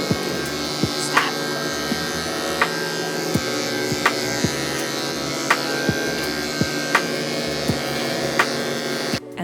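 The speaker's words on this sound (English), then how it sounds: "And then I use the quieter trimmer to neaten his face." A quieter electric pet trimmer neatening a dog's face after a flea bath, a steady close buzzing hum lasting throughout, broken by regular faint clicks roughly every second.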